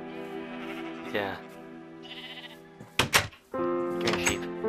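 Minecraft sheep bleat in wavering calls, several close, fairly loud cries in a row, amid other game sounds with a brief voice.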